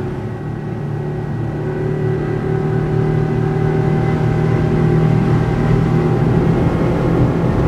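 An Albakore 560 Fish boat engine runs at speed in a loud, steady, droning roar that swells slightly and holds a constant pitch throughout.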